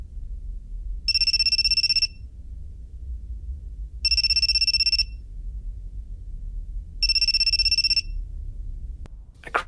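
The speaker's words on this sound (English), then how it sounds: "There's an incoming call from God." A cell phone lying on the ground by a door rings with an incoming call, three bright one-second bursts of electronic ringtone evenly spaced over low room rumble, followed by a brief close knock at the end.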